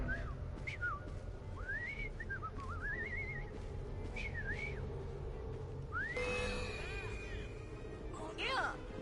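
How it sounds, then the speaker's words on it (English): A person whistles a rising and falling melodic tune in short phrases, with swooping glides and a few brief notes. The whistling is fairly clear over a steady low rumble of background noise. "I've just learned to whistle."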